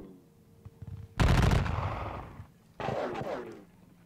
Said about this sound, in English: Right, he fired up the guns.